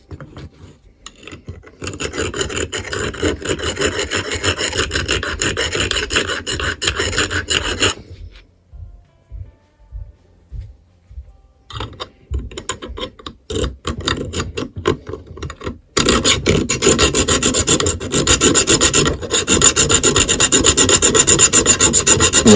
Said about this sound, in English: obviously this old file is cutting it